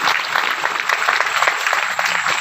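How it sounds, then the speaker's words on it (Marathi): Steady applause from an audience at a temple gathering devoted to Sant Balumama, dense overlapping hand claps sustained throughout at moderate loudness with no clear talk over it. "टाळी वाजवा टाळी वाजवा"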